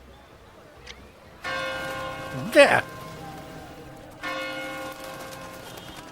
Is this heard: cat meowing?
no